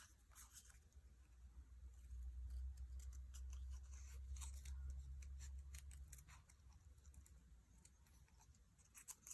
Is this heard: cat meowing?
no